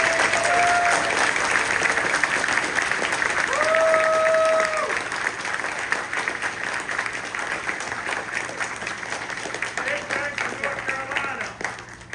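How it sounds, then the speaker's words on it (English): Crowd applause at the closing ceremony of a festival, a broad patter of many hands that swells for a few seconds and then tapers, with voices and short tonal calls mixed in. "So please give yourselves a round of applause."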